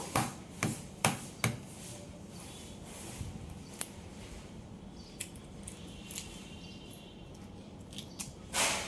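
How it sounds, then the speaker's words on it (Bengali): Boiled eggs being peeled by hand for an egg and potato curry: scattered sharp cracks and crackles of shell breaking, a few bunched near the start and then sparser, quiet and close, with no talking. "এখন ডিমগুলো খোসা ছাড়াই নেব।"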